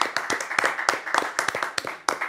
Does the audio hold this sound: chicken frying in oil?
no